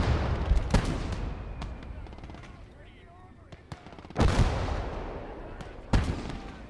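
Sharp gunshots and heavy booms from a tank battle in the Gates of Hell video game, including a loud blast near the middle and another toward the end, over a continuous rumbling battlefield backdrop.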